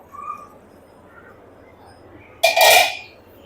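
A metal lid lifted off a pot of simmering dal on a medium flame, one bright clanging scrape near the end, close by, after quiet room tone.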